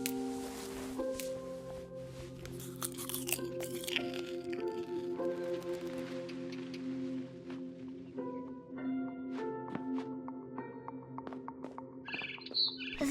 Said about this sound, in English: It was a barn swallow going back to her nest.